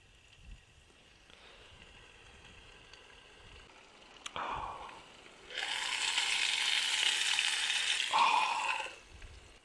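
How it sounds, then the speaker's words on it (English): Broadband sizzling from pork belly frying in a pan on a camping stove outdoors, starting quieter then swelling loud and steady, with a few clanks and scrapes before it fades. "Belly pork cooked al fresco."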